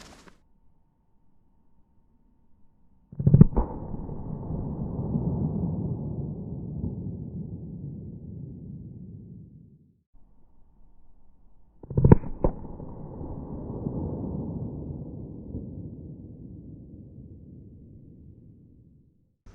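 Two pocket pistol shots, .32 ACP and .32 S&W Long Buffalo Bore hard cast rounds fired into ballistic gel, each a sharp crack followed by a long fading boom, spaced about nine seconds apart.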